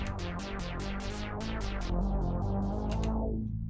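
A buzzy synth bass with no EQ pulses in a steady, repeating pattern with a bright, unfiltered top end, loud and alone.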